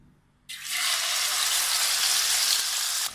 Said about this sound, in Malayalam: ഇനി ഈ എണ്ണ ചൂടാകുമ്പോൾ നമ്മൾ മാരിനേറ്റ് ചെയ്ത് വെച്ചിരിക്കുന്ന മീൻ ഇതിലേക്കൊന്നിട്ട് വറുത്തെടുക്കാം.